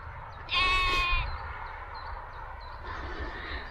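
A single sheep lets out one loud, wavering bleat close by, followed by a fainter distant call over a low background rumble.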